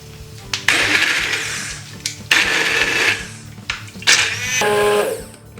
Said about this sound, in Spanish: ahora le vamos a meter la batidora